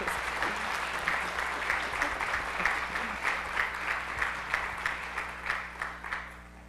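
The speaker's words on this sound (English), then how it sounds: "give them an extra warm round of applause" Audience applause at a spring new teacher induction ceremony, a steady wash of many hands clapping with a rhythmic swell of synchronized claps building toward the end, over a low hum of the hall.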